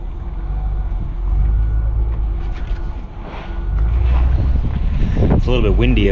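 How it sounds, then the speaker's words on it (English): Wind gusting outdoors on a hot day at a trucking stop, a rough low rumble of wind buffeting the microphone that rises and falls, with other faint noises mixed in near the end. "It's a little bit windy"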